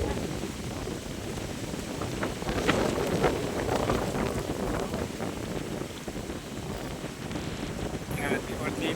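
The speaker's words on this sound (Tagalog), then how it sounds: "sarap ng hangin dito ngayon" Steady wind roars and rushes across the microphone at a seaside port with navy boats nearby, a constant broadband buffeting throughout, loud and close.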